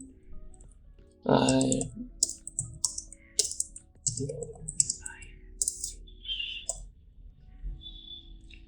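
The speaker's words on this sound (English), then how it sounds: "Let's type another print statement below this one." Computer keyboard typing a line of Python code, a run of light close clicks in irregular bursts, with someone talking over the start.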